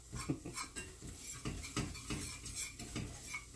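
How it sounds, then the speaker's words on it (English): Butter, onion and celery are stirred in a pot for a chicken pie, with a utensil clinking and scraping against the metal in an irregular rhythm over a faint sizzle, close and quiet. "normally I wouldn't make you watch me just stir things"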